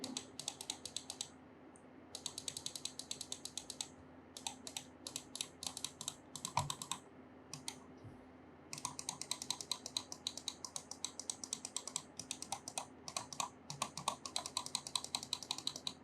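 Rapid, crisp clicks from the buttons of a Phylina S450 computer mouse come in quick close-up bursts, with a sparse stretch in the middle before steady clicking resumes.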